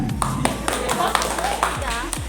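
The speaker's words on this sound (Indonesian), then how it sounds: "Boleh tepuk tangan yang meriah." Scattered claps sound from the audience at a high school student council candidates' question-and-answer session, a few sharp hand strikes breaking through while a voice talks over them at moderate volume.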